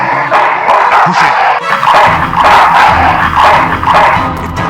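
A dog barks repeatedly in the remastered Full Throttle adventure game, loud yips and barks over game noise with occasional whimpers.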